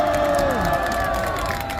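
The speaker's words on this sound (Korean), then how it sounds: "큰 박수로 모시겠습니다." Crowd at a nighttime rally on the eve of March 1st in Gwanghwamun Square, Seoul, cheering and applauding steadily throughout, a dense continuous roar with whoops rising above it.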